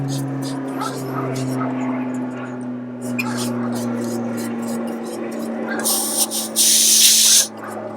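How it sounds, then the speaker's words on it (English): A stove canister valve releasing gas as the camping stove is detached, a sharp loud hiss bursting out near the end after quieter handling sounds, over a steady hum. "You can hear it when the gas escapes."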